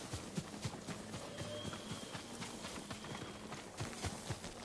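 Hooves clip-clop in a quick, steady rhythm as a horse trots along, fairly close, over a low background hum, in the video game Ghost of Tsushima.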